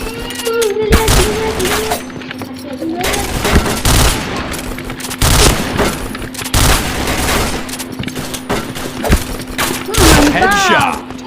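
Rapid bursts of gunfire from the online shooter Point Blank, several loud volleys and single cracks spread through the stretch, with game effects and a steady tone underneath.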